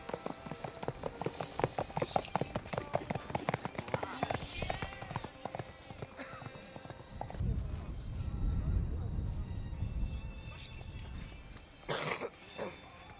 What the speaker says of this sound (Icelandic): Þá hér að koma Lúðvík frá Feti, rauður hestur